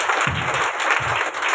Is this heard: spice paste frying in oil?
no